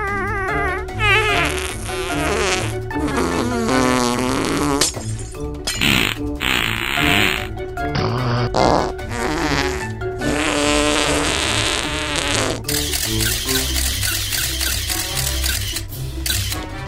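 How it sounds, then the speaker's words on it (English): Loud, long, buzzing fart noises in a Minecraft animation, a run of drawn-out sputtering blasts with varying pitch, interrupted by short gaps and cartoonish effects. "They are sitting in the toilet and farting loudly."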